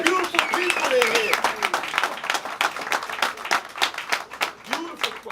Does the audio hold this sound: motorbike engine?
no